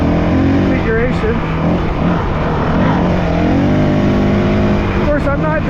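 Honda CRF450L dirt bike ridden along single track with the throttle held open, a steady loud engine drone running throughout, with a voice talking over it.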